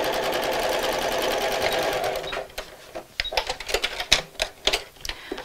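A sewing machine runs in a fast continuous whirring stitch across a seam on a Christmas gift sack, then stops, leaving a series of sharp clicks and knocks from handling the machine and fabric.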